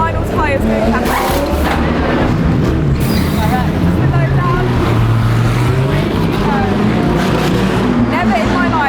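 A GT World Challenge race car pulls away down the pit lane at Barcelona after a pit stop, its engine roaring steadily and loudly beneath continuous commentary, with other cars and pit activity droning around it.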